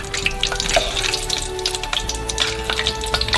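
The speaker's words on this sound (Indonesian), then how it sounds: "Segera setelah hangat, goreng cornognya." A corndog deep-fries in hot oil, giving a dense, steady sizzle with bursts of crackling bubbles, close and continuous with no talk.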